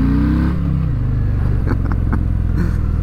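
A 2019 Harley-Davidson Fat Boy with the 114 V-twin engine revs loud and close, its deep rumble dropping in pitch as the revs fall, then settling into a steady, throbbing idle.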